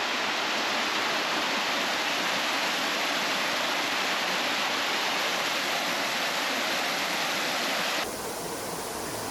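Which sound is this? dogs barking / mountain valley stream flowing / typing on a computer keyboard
mountain valley stream flowing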